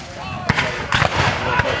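Gunfire from a Civil War reenactment battle in a park, with a few sharp reports standing out over steady outdoor crowd noise and people talking nearby.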